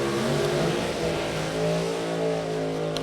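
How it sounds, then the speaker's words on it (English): Alcohol funny car engine at a drag race at Route 66 Raceway, a loud, dense roaring drone that holds steady for the whole stretch with a slight rise and fall in pitch. "Alcohol funny car settling in now."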